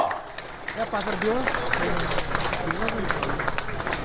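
A crowd at the J&K Trade Show 2024 claps loudly to welcome Lieutenant Governor Manoj Sinha, brisk applause mixed with a voice speaking or singing and background hubbub.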